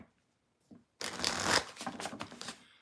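Tarot cards are shuffled close up in a dense, crisp burst of riffling and flapping that lasts almost two seconds. A couple of faint soft taps come just before it.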